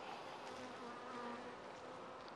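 A dense, steady hum of honeybees swarming around an open beehive during a frame inspection, a soft continuous buzz with no voices.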